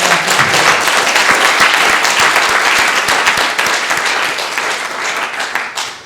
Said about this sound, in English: can we have a round of applause for our young volunteers?